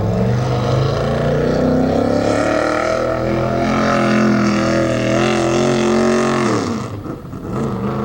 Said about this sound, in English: You hear the car firing up?